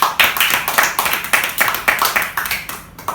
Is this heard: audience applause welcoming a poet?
yes